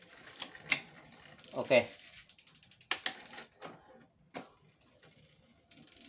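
A bicycle's chainring shifter on a used American Precision bike clicks several times between gears, sharp close ticks and ratcheting against near silence, with someone briefly speaking.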